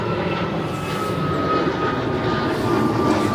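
An airliner at O'Hare Airport gives a steady, broad jet roar at a moderate distance, holding evenly throughout with no talking.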